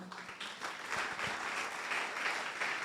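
Church congregation applauding during a Portuguese-language sermon, a steady wash of many hands clapping at moderate volume with scattered sharper claps, swelling slightly and holding to the end.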